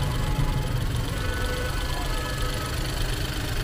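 A Honda car engine running rough and close with a failing alternator, near stalling: a loud continuous low rumble with an uneven knocking idle, and someone talks over it.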